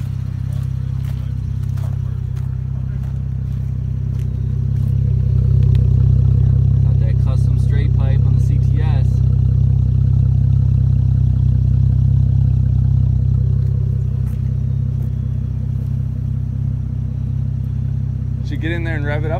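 A straight-piped Cadillac CTS Coupe rumbles at idle, then its exhaust swells into a long, louder rev in the middle before settling back to a steady burble. People talk intermittently over the engine.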